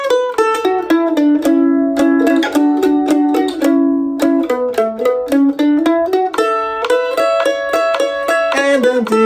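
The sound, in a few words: mandolin playing B part of a bluegrass tune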